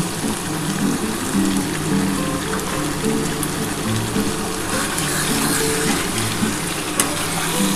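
Spice masala with chilli powder sizzling hard in a pan for mutton curry, a dense continuous fry close by with a rumbling undertone and faint scraping as it is stirred, no voices.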